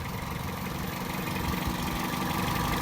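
A Toyota Celica GT's VVTi 1ZZ 16-valve engine idles steadily under the open hood, a constant, even mechanical hum with no voices over it.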